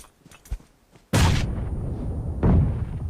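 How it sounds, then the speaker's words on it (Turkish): A sudden loud blast from a grenade in PUBG, followed by a sustained roar and a second burst, after a few faint clicks. "Kafasında bomba patladı."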